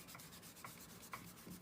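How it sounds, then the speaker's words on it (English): Soft, close scratchy rubbing of a kneaded eraser on paper, faint and continuous with a few slightly sharper strokes, no talking. "I'm going to take the kneaded eraser"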